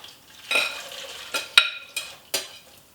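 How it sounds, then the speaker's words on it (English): Vegetables tipped into a pot of turkey carcass broth, several short splashy hisses and clinks arriving in quick bursts, close and fairly quiet between them. "So now I'm going to put these veggies into the broth."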